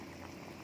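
Water boiling in a pot for cooking noodles, a dense, steady bubbling roar, close and continuous for the brief moment.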